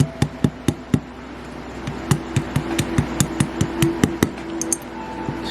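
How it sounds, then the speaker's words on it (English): Sharp, repeated light taps knock a dowel out of a Yamaha Blaster carburetor, about twenty close metallic clicks in a quick, uneven rhythm over a low background hum. "my little trick here to get out this dowel is to line this up with the hole, and you just give it a tap"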